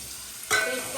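Chopped onion dropped into a hot pan for Maggi noodles, an abrupt sizzle bursting in halfway through after quiet, then holding steady.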